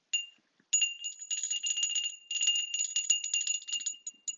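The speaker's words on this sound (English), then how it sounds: "Ring my bell just to create and set the space and intention." A small bell rung to set the space and intention, struck once and then shaken in a long stretch of bright, rapid tinkling that stays close and clear, with a final few light rings.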